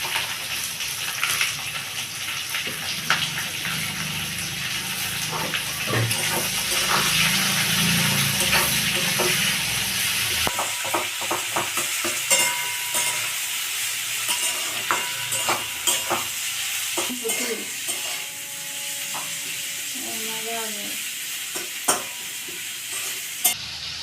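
Chopped onions going into hot spiced oil for a mutton curry, a loud close sizzle that settles into steady frying, with repeated scraping and stirring of a spatula against the pan.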